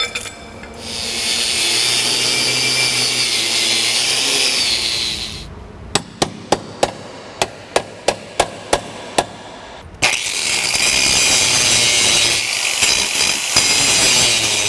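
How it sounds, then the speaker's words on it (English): Angle grinder working on steel Ford Fox Body frame connectors, two long steady grinding passes separated by a run of about ten sharp metallic taps or knocks. "Looks like I got a little more work to do with the grinder."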